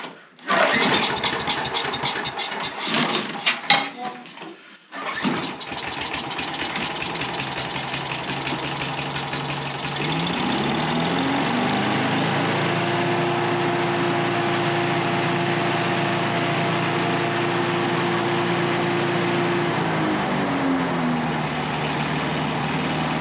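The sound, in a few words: small gasoline engine starting and running, choke applied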